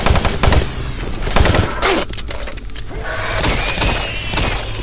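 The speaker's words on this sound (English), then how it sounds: "it just takes two shotgun long-range shots to kill this guy" Doom 3 shotgun blasts fire in rapid succession, loud and close, with heavy booming reports and mechanical clatter layered over dense game combat noise.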